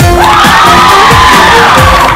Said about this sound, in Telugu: ఒకసారి మీకు మీరు గట్టిగా చప్పట్లు కొట్టుకోండి.